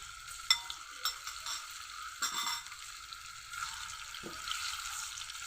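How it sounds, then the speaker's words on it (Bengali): Chicken pieces frying in hot oil for a bread pizza recipe give a steady, close sizzle, with a few sharper crackles and spits standing out near the start. "এখন চিকেনগুলো ভেজে নিব"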